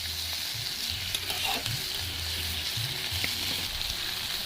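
Boiled potatoes frying in a pan: an even, close sizzle runs the whole time, with soft, low bumps of stirring beneath it and no talking.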